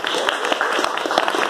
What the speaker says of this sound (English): give him a round of applause for David.